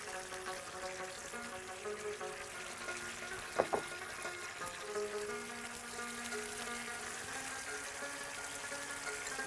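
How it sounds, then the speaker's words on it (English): Meatballs frying in a pan, a steady close sizzle and crackle with a brief clatter of utensils partway through, no talking. "Actually, you can fry the meatball as well."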